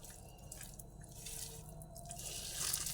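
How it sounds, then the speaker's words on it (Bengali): Hands squish and mix a wet egg and onion pakora mixture close by, giving soft, continuous squelching and sticky dripping sounds. "এরপর এটা হাত দিয়ে সুন্দর করে মেখে নিচ্ছি"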